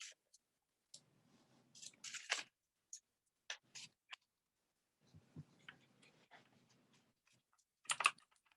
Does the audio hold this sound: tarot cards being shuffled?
yes